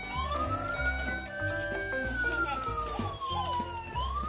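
A toy fire truck's electronic siren wails in a slow rising and falling sweep, loud and close, with a rumbling toy motor and bursts of other toy noise underneath.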